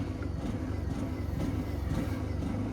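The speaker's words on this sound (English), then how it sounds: "Sorry about the noise, generator's on" Generator running beside a boat propped up for sanding off its anti-foul paint: a steady, loud low-pitched engine rumble with a dense droning throb filling the whole stretch, close and unbroken.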